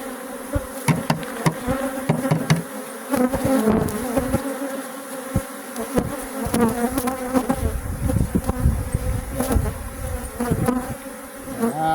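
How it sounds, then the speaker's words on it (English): Dense, loud buzzing of many aggressive bees swarming close by during relocation into bee boxes, with irregular knocks and bumps mixed in and no talking. "These bees are aggressive"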